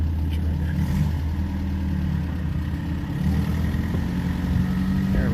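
A vintage MG TD sports car running on the road, its engine a steady low drone throughout with a slight rumble, heard from inside the car, close and fairly loud, with no speech.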